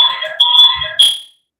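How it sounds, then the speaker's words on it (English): A fire alarm sounds in loud, shrill electronic bursts, two tonal blasts with a brief break between, then cuts off into silence. "does anybody have a fire alarm going on?"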